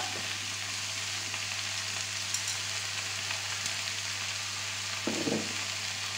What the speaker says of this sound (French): on va remonter le feu. On va rajouter un peu d'huile d'olive.